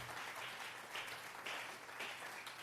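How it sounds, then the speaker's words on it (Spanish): Congregation in a church clapping together, a continuous soft wash of many hands heard from a distance at low level, with faint swells throughout. "Vamos a regalarle ofrenda de palmas al Dios de la gloria."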